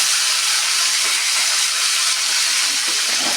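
Washed toor dal seeds (kandi ginjalu) frying hard in a hot pan, a loud, dense, continuous hiss with a steady roar and no talking.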